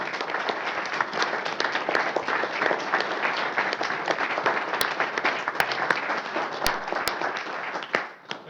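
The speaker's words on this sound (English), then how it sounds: "So I'd like to give everybody a round of applause." A crowd claps and applauds at a city council meeting, dense sustained clapping with a few sharper claps standing out, fading near the end.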